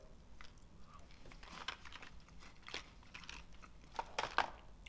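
Crunchy Japanese candy with a white chocolate shell and a crisp centre is chewed close up, giving irregular, fairly quiet crunches and bites that grow sharper toward the end.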